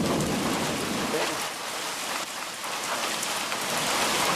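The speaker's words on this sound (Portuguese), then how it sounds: "Mais chuva?" Steady rain falls during a cattle-drovers' trek, a dense continuous hiss of drops on surfaces that dips briefly in the middle before returning at full strength.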